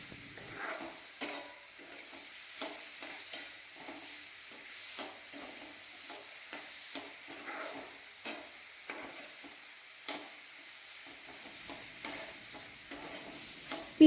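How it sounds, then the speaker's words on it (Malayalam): Nendran banana frying in ghee is stirred in a pan, giving a soft, steady sizzle broken by irregular light scraping strokes, quiet and close with no talking. "ഇപ്പോൾ ഒന്ന് നന്നായിട്ട് ഇളക്കി കൊടുക്കുന്നുണ്ടേ"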